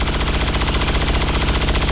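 Rapid, unbroken automatic gunfire from XCOM 2: War of the Chosen rattles loud and close for two seconds, with dense overlapping shots and no pauses.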